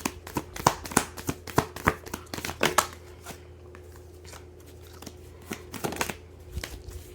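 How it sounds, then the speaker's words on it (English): Tarot cards are shuffled close up in a run of quick, crisp riffles and taps, followed by quieter handling and a final short flurry of card noise over a faint background hum. "Oh, let me shuffle first."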